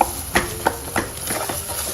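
Sliced bananas sautéing in ghee over low to medium heat for a traditional prasad, a soft sizzle broken by a rhythmic series of spatula stirs and taps, about five or six in quick succession.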